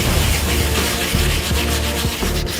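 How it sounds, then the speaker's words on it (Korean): Close, continuous rubbing and scraping of abrasive paper on old grimy wood, wiped with water while sanding, with rhythmic back-and-forth strokes and no talking. "일반적인 사포질로는 때가 벗겨지지 않을 경우 물로 닦아가며 사포질을 해야 한다"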